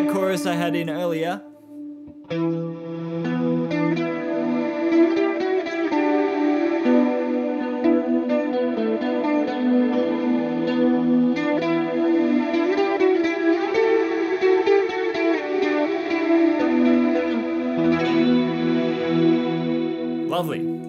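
A synth pad processed through the Valhalla Supermassive delay and reverb plugin, using a swelling synth preset, blooms into a long, sustained wash of layered tones that holds steady for about twenty seconds before a brief break near the start and end.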